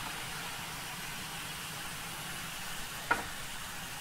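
Torn cabbage steam-fries under a lid in a pan on an induction hob, a steady soft hiss and sizzle throughout with one brief clink near the end.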